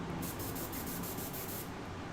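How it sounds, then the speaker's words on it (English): An airbrush sprays paint into a hand, a steady close hiss of air with faint rapid pulsing through it, lasting about two seconds, with no talking. "you spray into your hand, because sometimes when you're testing an airbrush and you're trying to get the paint out and through the airbrush"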